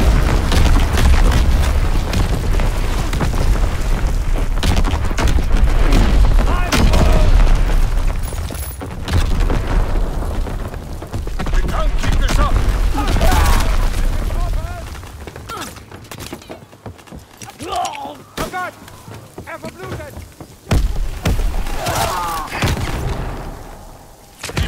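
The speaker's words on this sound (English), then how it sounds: "Incoming enemy artillery." Enemy artillery shells land in Call of Duty: WWII as a dense barrage of loud, booming explosions mixed with gunfire, thinning out toward the end into scattered blasts and bursts, with voices calling out over the din.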